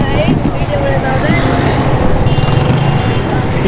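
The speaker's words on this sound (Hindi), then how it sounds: "पीछे भी ट्रैफिक जाम हो चुका है," Traffic stuck in a jam on a city road between Manzoor Colony and Jamshed Road gives a close, steady rumble of idling car and motorbike engines with scattered higher engine tones, dense and continuous.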